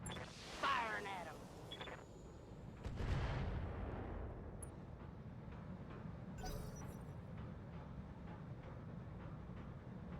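Mech weapons firing in the BATTLETECH video game: faint, distant booms and rumbling cannon shots, with two heavier volleys early on, under a talking voice.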